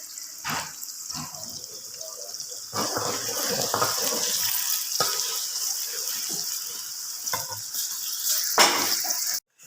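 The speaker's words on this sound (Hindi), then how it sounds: "जी, तो यहाँ पे प्याज फ्राई हो रहा है।" Onion frying in a pan for a mixed vegetable dish, a steady broadband sizzle lasting throughout with faint clinks and stirring scrapes, close and moderately loud, no talking.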